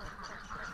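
Grimaud ducks, a super-lean French breed, quacking on a duck farm in Lâm Hà, Lâm Đồng, Vietnam, where they are raised on a fish pond; a dense, steady chorus of many birds fills the short moment at moderate loudness.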